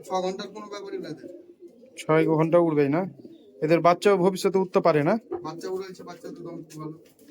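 Flocks of Giribaz high-flying pigeons at a Murshidabad pigeon sale in West Bengal coo in a low, steady murmur beneath a man's loud, close speech, which fills most of the stretch.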